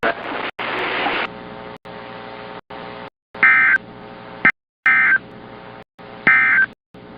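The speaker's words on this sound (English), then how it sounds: "Weather Service in North Nebraska has activated the warning alarm tone." NOAA weather radio warning alarm tone test from the National Weather Service in North Nebraska, heard as a series of loud, evenly spaced electronic tone bursts with brief gaps, over a narrow-band broadcast hiss.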